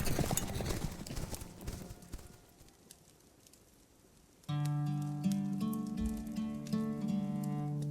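Rapid hoofbeats of a galloping horse clatter past as an audiobook sound effect, close and busy at first and then fading, before music swells in and carries on.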